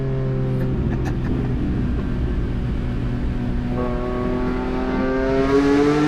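A BMW E46 M3 engine revs hard inside the cabin, its rising harmonic whine climbing steadily in pitch and volume, loud and continuous with no talking.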